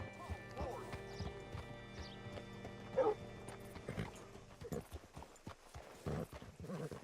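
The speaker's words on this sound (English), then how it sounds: "Hitch your horse up here." Horse hooves clop irregularly in the video game Red Dead Redemption 2 over a busy background, with a horse whinny and a dog barking faintly mixed in; voices talk over it.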